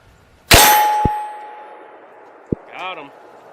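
A single loud FK BRNO PSD pistol shot in 7.5FK rings out sharply and decays, followed by faint metallic pings from a steel target about the size of a soccer ball at 60 yards outdoors.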